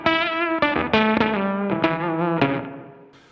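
An electric guitar played through a vintage Fuzz Face pedal with a Beetronics Abelha plays a short run of fuzzy, distorted notes with strong sustain, close and clear, fading out at the end without any talking.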